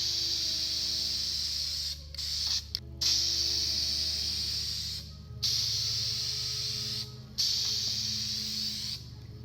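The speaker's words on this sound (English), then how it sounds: "Always start with a test spray to be sure the can doesn't have a spitting nozzle." An aerosol can of spray paint hisses onto black car trim in several sustained bursts separated by short pauses, close and steady over a faint low hum.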